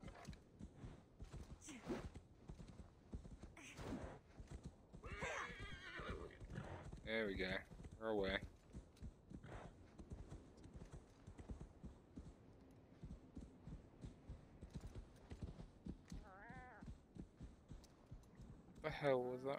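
Horse in Assassin's Creed Valhalla clip-clops along steadily at a gallop, with a few whinnies and snorts rising over the hoofbeats while someone talks intermittently over the game sounds.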